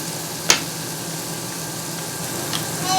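Three steak patties sizzle in a hot pan, a steady even hiss broken by one brief pop near the start, close and alone with no talk.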